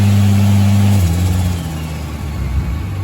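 A turbocharged 2JZ in a Lexus IS300 with a built rod motor and twin-plate clutch drones loudly and steadily, then its pitch drops and settles into a rougher, lower rumble.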